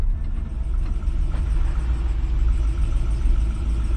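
A RAM 2500 Cummins 6.7L diesel truck with its rear differential locked pulls under load, giving a steady, loud low engine rumble that holds without a break and carries no talk.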